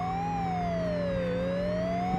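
A police car siren wails in the Amiga game Test Drive II California Challenge, a single electronic tone sliding slowly down and back up over a steady engine drone.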